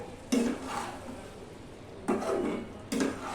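Curd stirred into bottle gourd curry in a pan: three soft scraping, sloshing strokes, each starting abruptly with quiet pauses between, close and moderately loud, no talking.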